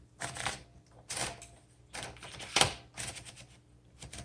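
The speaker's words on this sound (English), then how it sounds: "let's go ahead and load a piece of paper and do a typing demo for this particular typewriter" Mechanical ratcheting and clicking from a 1955 Smith Corona Silent Super manual typewriter as paper is fed in, in several short bursts with one sharp snap midway.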